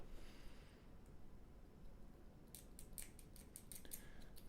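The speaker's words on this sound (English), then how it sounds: "I just need to trim those down." Scissors snip through plastic model kit parts being trimmed for a kitbashed mech, a quick run of sharp close cuts in the second half over a faint steady background hiss.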